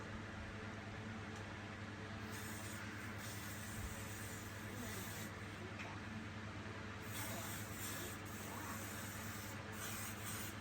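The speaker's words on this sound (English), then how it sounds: "Today I'm going to seal my makeup with the L'Oreal Inflammable 3-second setting mist." L'Oreal Infallible 3-second setting mist is sprayed onto a made-up face in several soft hissing bursts over a faint constant background hiss, with no talking.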